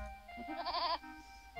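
A goat in the video game Putt-Putt Joins the Circus gives a single wavering bleat, clear and close, over a faint steady game background hum.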